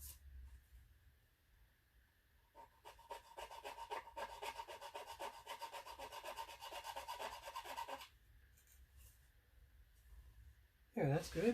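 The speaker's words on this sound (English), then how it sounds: "I see I need to do a bit more filing" A file rasps against the edges of a plastic model saucer from a 1/1000 scale Excelsior kit in a quick run of close, rhythmic strokes, followed by quiet handling and a brief clatter at the end.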